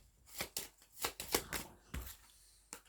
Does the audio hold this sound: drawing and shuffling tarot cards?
yes